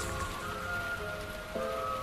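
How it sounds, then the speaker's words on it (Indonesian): Steady rain falls on surfaces in Bandung, a dense continuous patter heard close and evenly throughout, with faint tonal background sounds and no talking. "Bandung diguyur hujan beberapa hari."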